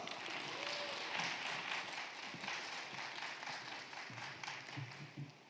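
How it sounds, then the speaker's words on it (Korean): A crowd applauds steadily for several seconds, a dense wash of clapping that thins slightly toward the end, welcoming a speaker to a lecture at an education conference in South Korea. "큰 박수로 김진환 박사님 모시겠습니다."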